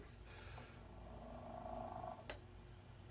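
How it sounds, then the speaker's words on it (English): A cat purrs in a soft, continuous low rumble that stays steady throughout, sitting faintly under a layer of background hiss and noise. "As you can hear, this is a cat purring."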